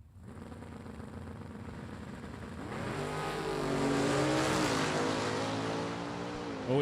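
Drag race cars at a Rockin Super Shootout event roar steadily near the start line, engine note rising into a loud sustained burnout howl with rising pitch, continuous and fairly distant, with no talk over it.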